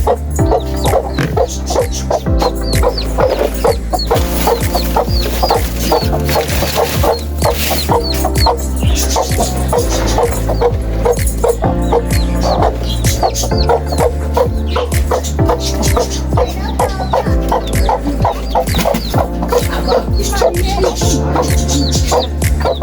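Chicks and ducks cluck and chatter continuously at close range, a loud, busy flurry of overlapping calls throughout.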